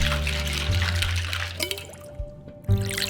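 Liquid rattling and sloshing in a cocktail shaker as a femme fatale drink is mixed in a bartending video game, then a short pour, all at moderate level with no talk over it.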